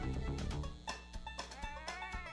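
Several sheep in a video game bleat in quick overlapping calls, quiet and close, over a low steady hum.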